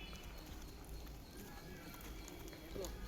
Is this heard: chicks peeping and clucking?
no